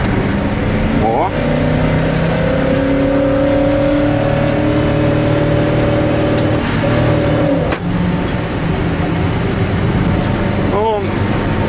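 A ZIL truck fitted with an American V8 engine accelerates hard from a standstill, the engine note climbing through gear changes with a loud, continuous roar close by.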